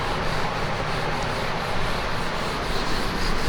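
A steady, continuous rubbing as a writing board is wiped clean to erase notes in a classroom lesson, close and loud, with no talk over it.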